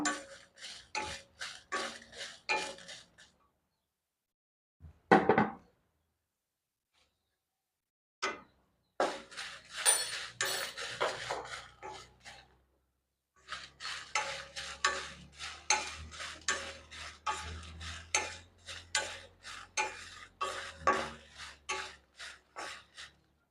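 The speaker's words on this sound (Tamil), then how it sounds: "இப்போ மிளகாயை வறுத்துக்கிடுவோம். இது 50 கிராம் மிளகா" Dry stirring and scraping as 50 grams of dried red chillies roast in a pan for Chettinad sambar powder, coming in rhythmic bursts of strokes separated by short pauses.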